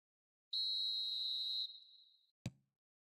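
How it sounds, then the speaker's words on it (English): A referee's whistle sounds in an eFootball video game match as one steady, shrill blast of about a second that fades out, followed by a single short thud. "Whistle's gone, that's a foul."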